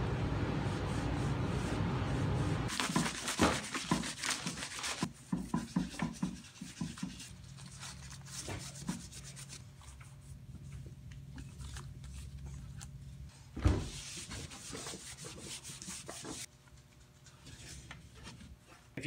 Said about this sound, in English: I'll be using 180 grit for this.